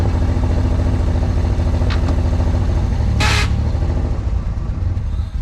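A 1986 Pontiac Fiero GT engine labours in gear and nearly stalls, a loud, close, rough, uneven rumble throughout with a brief hissing burst midway.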